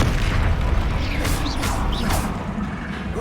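Spell explosions from the Confringo spell in Hogwarts Legacy, a continuous loud burst of blasts and crackling magical effects with whooshing rises, no speech.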